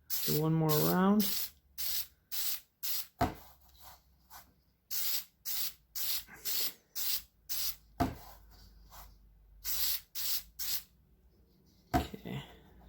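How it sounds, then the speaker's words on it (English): Filter oil is sprayed onto a 2016 Honda Rancher air filter in repeated short, close hissing bursts, roughly a dozen quick sprays in uneven rhythm, with a voice briefly heard at the start. "Spray it again. Do one more round."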